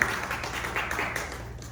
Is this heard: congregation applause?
yes